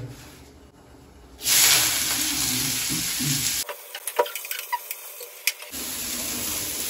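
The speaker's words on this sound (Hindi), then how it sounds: "यहाँ पे लग रहा है सब्जी को तड़का" Loud sizzling of tempering spices hitting hot oil for a vegetable dish, a steady crackling hiss that cuts out briefly with scattered clicks and pops before the sizzle resumes.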